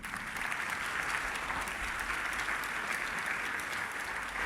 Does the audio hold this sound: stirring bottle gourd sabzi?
no